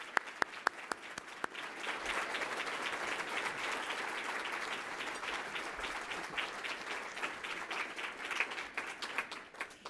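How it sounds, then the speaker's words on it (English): Audience applause filling a big room at a downtown civic club event, a few sharp individual claps first, then sustained dense clapping for several seconds at a fairly faint level. "please give him a big round of applause"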